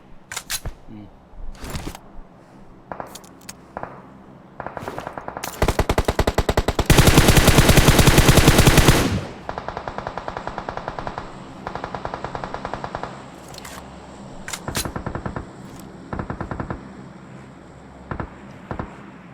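Automatic gunfire in the mobile battle royale game PUBG Mobile: bursts of rapid shots scattered throughout, with one long sustained loud volley in the middle and shorter bursts after, partly from behind the player.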